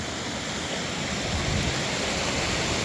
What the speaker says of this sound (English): Look at this stream.